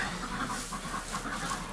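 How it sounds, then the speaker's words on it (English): A hen in a nest clucks in a low, rhythmic run of muttering calls, close and steady, over outdoor noise in early spring as the nests are checked. "Come on, bird, move."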